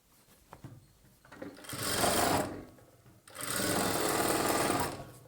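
A sewing machine stitches a plain blouse in two sustained runs, the second longer, with a brief pause between them. The whirring motor is close and steady, with no talking.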